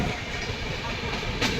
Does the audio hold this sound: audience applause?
no